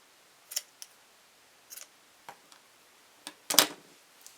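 Scissors snip stray strands from a yarn pom-pom, a series of sharp, close clicks spaced irregularly, with a louder double cut near the end and quiet pauses between.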